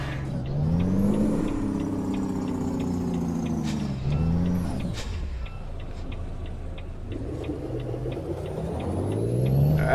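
A truck engine in American Truck Simulator revs up and down in rising and falling swells, with a quick ticking signal running steadily on top and no voices.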